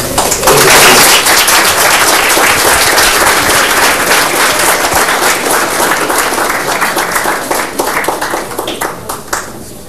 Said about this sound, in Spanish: les pido un aplauso para el